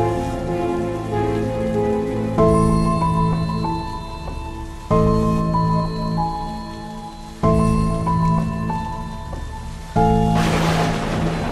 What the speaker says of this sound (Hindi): और बाहर काफी तेजी से बारिश हो रही है।